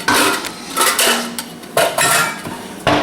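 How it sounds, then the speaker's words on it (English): A bowl is lifted down from a kitchen cupboard while hot chocolate powder is being made, with several loud, close ceramic clatters and knocks spaced out over a few seconds. "Let me get a bowl down here."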